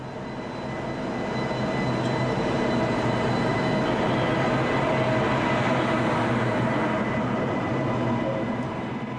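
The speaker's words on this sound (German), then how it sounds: "Es ist ein ICE-Zug der Baureihe 401, der auf dem Weg ist." An ICE class 401 high-speed train runs on the Würzburg–Hannover high-speed line, a loud, steady broadband rush and rumble that swells in and holds for several seconds.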